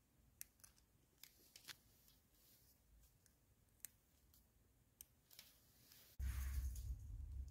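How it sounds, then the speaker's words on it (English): Small cutters clip off the tiny battery terminals of a battery-powered holiday decoration, a series of faint, crisp snips and clicks at uneven intervals, ending in a louder rustling handling noise. "I'm going to cut off these little terminals."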